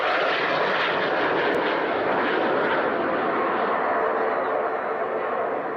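An Avro Vulcan bomber's jet engines give a loud, steady roar, a broad continuous rumble that holds at constant strength and drowns out everything else.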